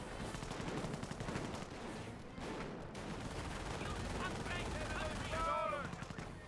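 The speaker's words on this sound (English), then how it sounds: "Half track firing away over here." A half-track in Company of Heroes fires its gun in a World War II battle, steady rattling bursts of automatic fire amid the din of combat, with whistling shells toward the end, all at moderate distance.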